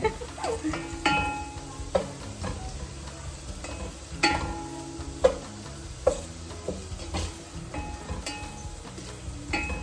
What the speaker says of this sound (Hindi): ये तो बहुत ही जल्दी कुक हो रहा है क्योंकि मेरा तेल उतना ज़्यादा गर्म है